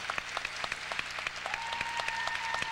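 An arena crowd at the 1994 World Figure Skating Championships, ladies' technical program, applauds. Distinct sharp claps ride over a thick crowd roar, and a steady tone joins halfway through.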